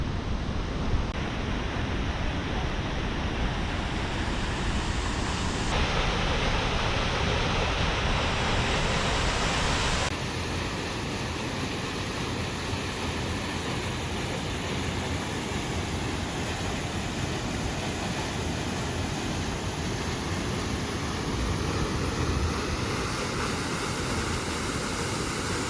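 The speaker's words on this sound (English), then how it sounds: "Sabie waterfall. Here we go." Sabie waterfall in Mpumalanga, a continuous broadband roar of rushing water, dense and even for the whole stretch with no voices, shifting slightly in tone as the view changes.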